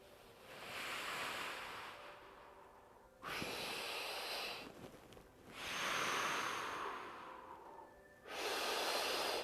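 Deep, dynamic breathing during a yoga stretch: long, loud, airy inhales and exhales close to the mic, alternating in slow waves with brief pauses between them and no talking.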